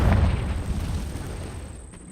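A Confringo blasting spell goes off in the Hogwarts Legacy video game, a deep booming explosion that bursts loud at the start and then rumbles and decays over about two seconds, with no talking.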